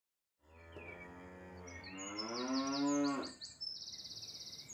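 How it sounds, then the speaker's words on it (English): A heavy black-and-white cow moos once in a long, rising, drawn-out call, close and loud and heard alone, with a few faint bird chirps in the background. "Black and white critters, heavy and mooing."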